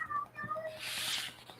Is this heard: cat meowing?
yes